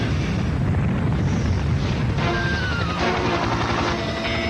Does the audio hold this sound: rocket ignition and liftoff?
yes